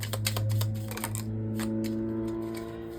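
Tarot cards are shuffled by hand in a short burst of quick, soft riffling clicks and taps, close and fairly quiet.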